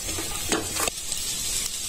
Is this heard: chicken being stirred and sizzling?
yes